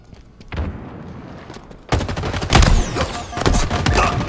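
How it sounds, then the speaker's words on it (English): Rapid video game gunfire crackles in bursts, first lighter shots, then a sudden loud barrage of repeated automatic fire with sharp impacts and booms. "Shooting"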